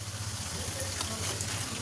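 A soft, steady hiss of food frying in oil, low and even throughout, with a faint low hum underneath.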